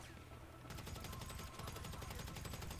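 Rapid automatic gunfire in Grand Theft Auto V, a dense, continuous burst of shots that starts after a brief quieter moment and keeps rattling steadily to the end, loud and close with no talking.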